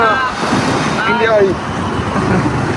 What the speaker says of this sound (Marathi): वादळ वारा येत आहे